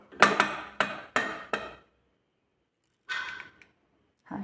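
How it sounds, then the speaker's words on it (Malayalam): A handful of sharp metallic clanks in quick succession as a pressure cooker lid is worked loose after its pressure is released, then a pause and a brief rattle. "അപ്പോൾ ഇനി കുക്കർ തുറക്കാം"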